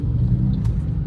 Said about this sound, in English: lots of traffic on the way over.